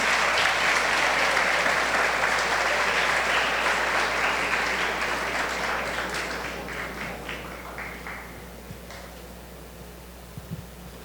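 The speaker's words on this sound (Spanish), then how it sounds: "Un aplauso para José." An audience at a church's 65th anniversary celebration applauds José, thick clapping that gradually thins and tapers off into a few scattered claps.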